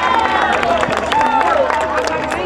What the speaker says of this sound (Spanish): Un aplauso también para estos chicos.